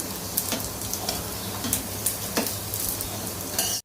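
Sago vadas deep-frying in a small pan, three at a time, give a steady, close sizzle and crackle of hot oil throughout, with a few sharper pops and no voices.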